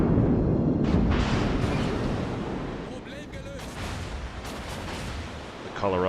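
Heavy naval gunfire from warship batteries in World of Warships, including the Scharnhorst, with loud booming blasts and rumbling echoes rolling continuously, ending in a sharp burst.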